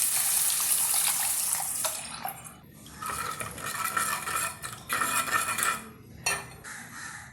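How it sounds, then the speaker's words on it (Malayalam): Water pours and splashes into a pan of tapioca curry with ground coconut for several seconds, with clinks of utensils and stirring, no voices. "ഇനി ഇതിലേക്ക് ഒന്നര കപ്പ് വെള്ളം ഒഴിച്ചു കൊടുക്കുക"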